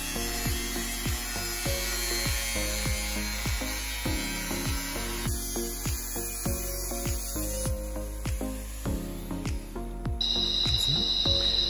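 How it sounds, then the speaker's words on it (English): A power tool cuts through quarter-inch metal plate for the floor of a solar housing box, giving repeated sharp grinding strokes in a steady rhythm, close and loud, with a shifting whine near the end. "Now I'm cutting quarter inch metal to make the floor for our solo box."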